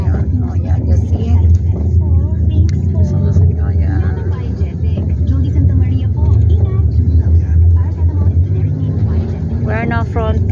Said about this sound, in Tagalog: Dikit-dikit ang mga sasakyan, bus, motor.